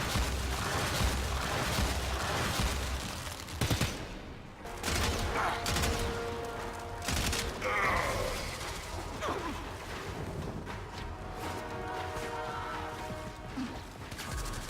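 Rifle gunfire from an assault rifle in the video game Warframe, dense rapid bursts of shots with crashing impacts and mechanical clatter over a loud continuous game soundscape.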